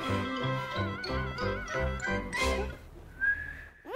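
Loud, close whistling from someone attempting to whistle right after eating five gingerbread cookies, a run of rhythmic, breathy pulsing notes followed by a thin, steady whistled tone near the end.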